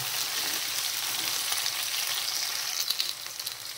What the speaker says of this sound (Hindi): इसको 1 से 2 मिनट तक भुनेंगे हम लोग